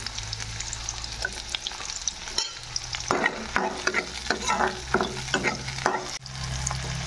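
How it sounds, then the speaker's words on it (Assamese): Chopped garlic and green chillies frying in a pan, a steady close sizzle with bursts of stirring and scraping from about three seconds on, no talking. "এয়া কাটি লোৱা নহৰু, জলকীয়া সকলোখিনি দি পেলাই অকণমান ভাজি ল'ম।"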